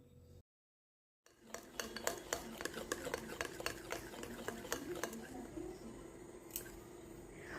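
A spoon beats semolina batter in a bowl with rapid, rhythmic clinking and scraping taps, close and steady after a brief silent gap at the start.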